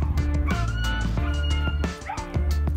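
A dog whimpers and yips in short, repeated high-pitched bursts, close and fairly loud, with a few brief pauses between cries.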